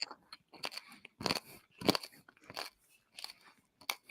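Crunchy bites of food are chewed close to the microphone in a quiet room, a series of crisp crunches in an irregular rhythm with short pauses between them, and no talk.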